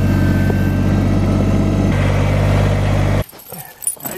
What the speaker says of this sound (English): you're just going to back your vehicle